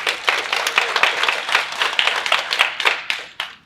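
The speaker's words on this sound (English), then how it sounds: "Please give an applause for Sue." An audience at a women's future forum during the UN General Assembly bursts into applause, a dense crowd of many hands clapping steadily and loudly, close and continuous before tapering off at the end.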